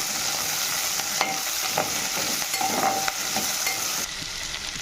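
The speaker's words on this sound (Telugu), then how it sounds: "ఇప్పుడు ఇదే ఆయిల్లో ఉల్లిపాయలు కూడా వేసుకొని మగ్గించుకోవాలి" Onions fry in oil in a pan for a bitter gourd dish. A continuous sizzle is broken by several stirring scrapes, and it quiets slightly toward the end.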